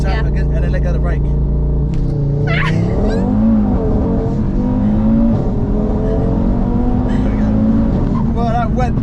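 A 700bhp Audi RS3 makes a launch start, its engine roaring hard and rising steadily in pitch as it accelerates, loud and close throughout, with occasional voices over it.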